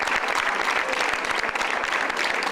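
A crowd outside a hospital in Madrid applauds in memory of a nurse, a dense, steady burst of clapping from many hands at close range throughout.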